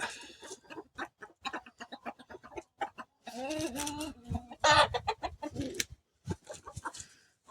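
Hens cluck in short, irregular bursts, with a louder rooster call partway through, close by and busy.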